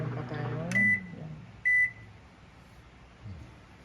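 A microwave oven cooking back ribs hums steadily nearby, broken by two sharp electronic beeps close together, with a faint low rumble continuing afterward.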